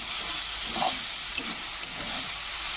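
Momo filling sizzles steadily in a hot pan, a continuous hiss of frying with a few soft scrapes and clinks as it is stirred, close and moderately loud with no talking.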